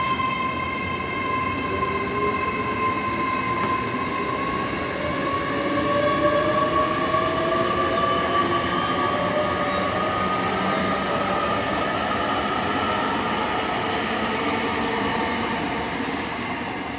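A Class 800 train runs through Swindon station, a loud steady rumble and rolling roar with drawn-out tonal whines, continuous and close for about seventeen seconds.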